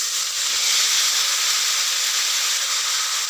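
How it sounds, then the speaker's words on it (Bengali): Eggplant seasoned with turmeric and salt frying in a pan, a steady, loud hiss and sizzle of hot oil that holds constant throughout, with no voices. "বেগুনে হলুদ আর লবণ দিয়ে বেগুনটাকে ভাজি।"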